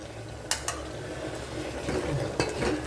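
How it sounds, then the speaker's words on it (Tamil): Spices sizzle and crackle steadily as they are tempered in hot oil for rasam, with a few sharp clinks of a metal spoon against the pan close by. "தாளிக்கணும்."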